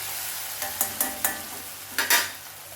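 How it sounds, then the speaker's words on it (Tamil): A metal ladle scrapes and presses against a pan several times, mashing tomatoes for a cluster beans dish over a soft sizzle, the taps spaced irregularly and fairly quiet. "நான் அப்படியே கரண்டி விட்டு நல்லா மசிச்சிருவேன்"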